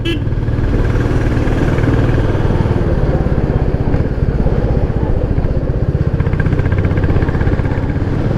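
A Royal Enfield Classic 350 motorcycle runs steadily while being ridden, its mid-pitched single-cylinder thump loud and continuous throughout, with steady road noise and no clear gear changes.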